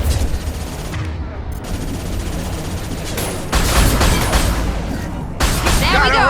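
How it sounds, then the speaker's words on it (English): Heavy gunfire from a Mass Effect 2 firefight rattles in dense, overlapping automatic bursts, loud and close, briefly dropping away before resuming harder with sharp impacts and energy-weapon whines. "Taking heavy fire!"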